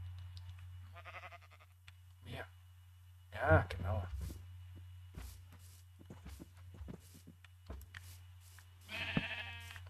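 Sheep bleat in a Minecraft farm scene, one clear bleat and a few fainter ones, among soft footstep sounds and a low steady hum. A person speaks briefly over it.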